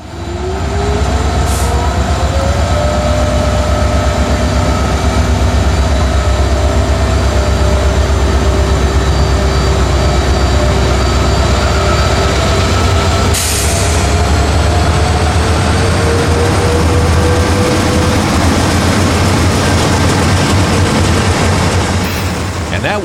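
Freight train locomotive in a rail yard on the Gulf Wind route, rumbling loud and close with a steady low engine drone, a rising tonal whine and squealing wheels on the track, a brief sharp clank partway through.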